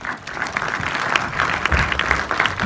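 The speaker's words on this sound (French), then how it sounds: "Je crois qu'on peut l'applaudir." Audience applauding a young voice-casting performer at a film screening event, steady dense clapping throughout at moderate loudness with no talk over it.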